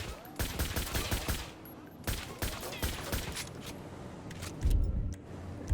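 Combat pistol shots in GTA 5 with the NVE mod ring out as sharp, loud cracks in quick bursts and single reports, with short gaps between volleys and a heavier thump near the end.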